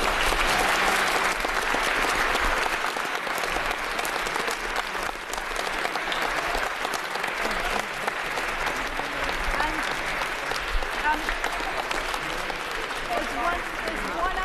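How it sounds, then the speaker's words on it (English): Sustained applause from an audience filling the House of Lords chamber at a youth debate event, steady and continuous clapping throughout with a lively crowd texture. "I think this is the moment when you should all give yourselves a big round of applause"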